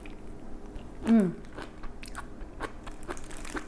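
One loud crunchy bite of seasoned Korean spinach side dish followed by several softer chewing crunches, close to the microphone, with no talking.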